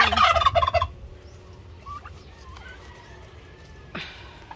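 A turkey lets out a loud, rapid burst of gobbling up close, then fainter bird calls and rustling follow in a quiet outdoor setting.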